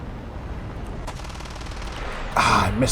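Aircraft cannon fire from an F8U-2 jet in War Thunder, heard as a single short crack followed by a louder, dense burst of rapid gunfire near the end, against steady engine drone.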